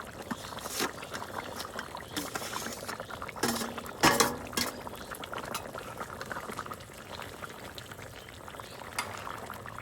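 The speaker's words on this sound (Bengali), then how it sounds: "ঝোলটা ফুটে উঠেছে, ভেজে রাখা মাছগুলো দিয়ে দেবো।" Fish curry broth with potato simmers in a pot as pieces of fried eggplant go in. A continuous bubbling boil with liquid gurgles sits close by, with a brief louder splash and clatter partway through.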